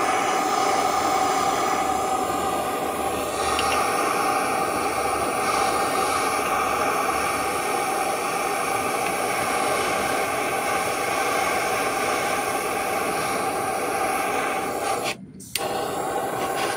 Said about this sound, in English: I'm just gonna try it with a torch.